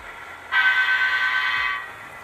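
A model train horn sounds in one steady sustained blast of about a second and a half, fairly loud and close, over a low background hum, during a live model railroad operating session.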